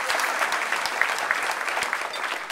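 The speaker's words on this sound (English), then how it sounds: "he deserves a round of applause" An audience at a university volunteer leadership event applauds steadily, a dense even patter of many hands clapping throughout, fairly close, with no voices over it.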